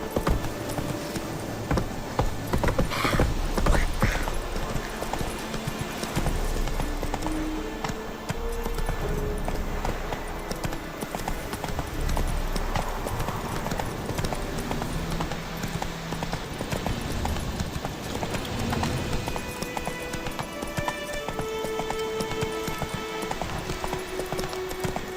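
Hoofbeats of Geralt's horse Roach clatter in The Witcher 3, a steady clip-clop of galloping hooves mixed with game ambience and scattered effects, with no talking over it.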